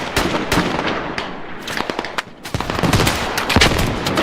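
Dense video game combat: rapid, loud bursts of gunfire mixed with sharp explosive blasts, including a rocket impact, packed close together throughout with no voices.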